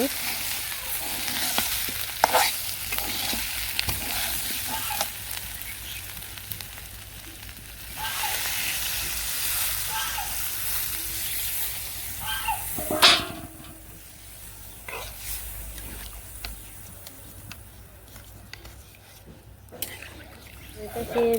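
Broth poured onto meat cooking on a village clay stove, a steady loud sizzle and frying hiss with stirring scrapes and a sharp splash partway through, under occasional talk.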